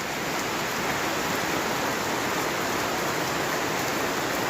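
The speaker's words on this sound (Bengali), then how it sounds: "কি পরিমাণ বৃষ্টি দেখুন।" Heavy rain pours down around Adda Bazar and College Road in Barura, Comilla, a dense, unbroken hiss of falling water that stays at the same loudness throughout with no voices.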